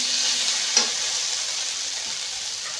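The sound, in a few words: stir-frying masala spice paste in pan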